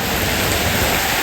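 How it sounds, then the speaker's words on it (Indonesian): Steady, loud rain pours down outdoors, a dense unbroken hiss with no voices. "Gimana Put, saya mau mandiin hujan ini"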